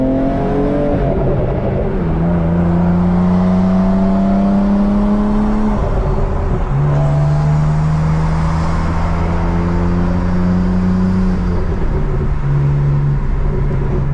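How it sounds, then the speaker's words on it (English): A BMW M3 with a manual gearbox, engine droning steadily and close, with the pitch dropping at each gear change about three times. "To shift, come off the gas, go on the clutch, shift the gear."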